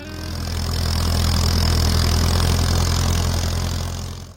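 Farmall H tractor with a 4-cylinder, liquid-cooled 2.5-liter gasoline engine, running at a steady low rumbling idle, close and continuous, swelling slightly in the middle and easing off at the end.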